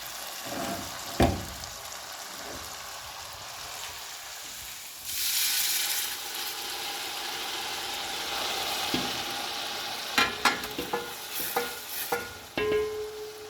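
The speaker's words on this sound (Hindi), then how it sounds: "ये उसमें मैं ट्रांसफ़र कर दूंगी और अपनी वेजिटेबल्स को फ्राई करूंगी।" Mixed vegetables for fried rice sizzle in a large pot over a high flame, with a steady frying hiss, a burst of louder sizzling midway and scattered clanks and scrapes of stirring toward the end.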